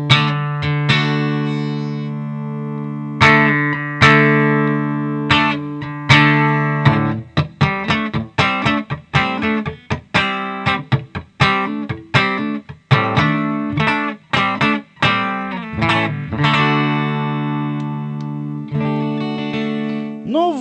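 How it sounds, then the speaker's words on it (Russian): Parker P-44 guitar heard through its piezo pickup alone, with the magnetic pickup switched off: a run of bright, plucked notes and strummed chords, some ringing and some cut short, loud and close with no talking. "сейчас я убрал звук электрического датчика магнитного и оставил пьезо"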